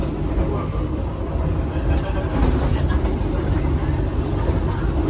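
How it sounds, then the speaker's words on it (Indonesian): A busy dining car on a morning train from Jakarta to Jogja: a steady rumble of the moving train blends with a dense background murmur of passengers talking throughout. "Suasana kereta makannya cukup ramai ya."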